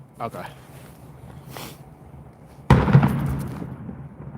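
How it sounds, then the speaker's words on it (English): A police flashbang grenade goes off during an early-morning standoff in Albuquerque, one sudden loud blast that rings and decays over a second or so, preceded by faint distant sounds and a brief voice. "Flashbang."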